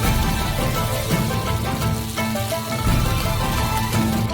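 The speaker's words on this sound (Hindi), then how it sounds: "बचे हुए पानी को काली फलियों से निकाल देंगे और फ्राइंग पैन में सबसे पहले उन्हें थोड़ा भूनते हैं।" Black beans sizzling and crackling in a hot frying pan, a steady dense frying hiss that stays loud and close throughout with no talking.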